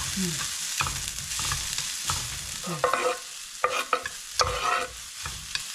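Radish namul made with perilla seeds stir-fries in a pan as green onion goes in, giving a soft steady sizzle with intermittent scraping and stirring clatters.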